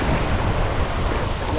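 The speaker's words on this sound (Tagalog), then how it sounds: "Lakas ng alon guys." Strong sea waves churning around a fishing boat, a steady loud broadband roar of surf mixed with wind buffeting the microphone, continuous with no pauses and no voices.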